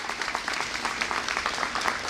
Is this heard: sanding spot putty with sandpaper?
no